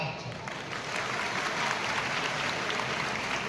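An audience at a community student award ceremony claps in a dense, steady burst of applause that rises slightly and holds at a moderate distance, with some voices faintly underneath.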